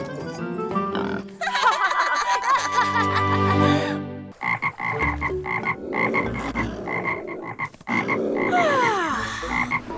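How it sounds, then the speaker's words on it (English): Cartoon toads croak in loud, rhythmic, throaty bursts, several overlapping calls up close, mixed with other animated sound effects and music-like tones. "Can't you hear the toads?"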